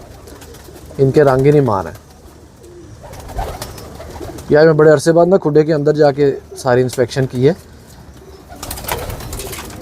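Kamagar and Teddy pigeons coo in the background of a loft, a faint low murmur running beneath a voice as he talks in loud bursts with short pauses.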